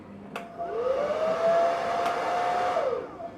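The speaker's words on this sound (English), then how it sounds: "I'm going to take my blow dryer." A cheap Kiss Red hair blow dryer starts up and runs steadily with a high whining tone for a few seconds before cutting off, with faint clicks at start and end.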